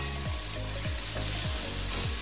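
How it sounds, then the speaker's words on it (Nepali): Mushrooms fry in a pan for chicken chow mein, a dense, loud sizzle with rhythmic scrapes and stirring thuds about every half second, close and without talk. "च्याउ राख्दैछु म अब। यसलाई चाहिँ मजाले फ्राई गर्नुपर्छ थोरै,"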